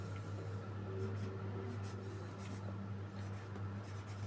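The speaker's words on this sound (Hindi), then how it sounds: "यूनिवर्सल सेट को मैं यूँ लिखता हूँ" Pen or pencil strokes scratch across paper as a Venn diagram is drawn by hand, a series of soft, brief scribbles beneath a steady low hum, with someone speaking quietly over them.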